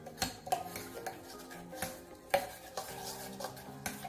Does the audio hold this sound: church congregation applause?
no